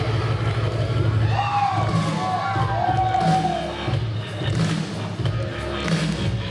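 Wrestling crowd at a WFC heavyweight match cheering and whooping for the Creole Soul, a loud, dense roar of voices with scattered shouts and dull thuds running throughout.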